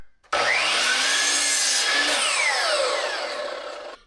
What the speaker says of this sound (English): So I'm going to start by just cutting 2 pieces at 15 and a quarter.